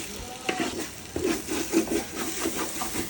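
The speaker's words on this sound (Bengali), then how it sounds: "একদম লাল লাল করে চালগুলো ভেজে নিব" Rice frying in a pot for chicken biryani, with a steady close sizzle broken by repeated scraping strokes as a utensil stirs the grains, roughly every half second, and no voices.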